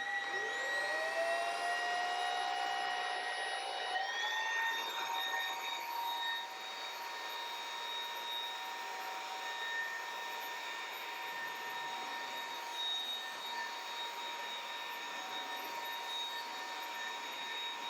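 An Aspiron vacuum cleaner spins up with a rising motor whine, then ramps up again when switched from low to high power, settling into a steady, high-pitched hum with an airy rush.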